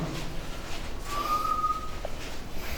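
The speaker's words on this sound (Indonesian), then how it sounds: "Siapa yang siulan?" A single person whistles one steady, sustained note for about a second inside Gua Tōgi Goli, a cave in North Nias, heard over faint ambient cave noise with no talking.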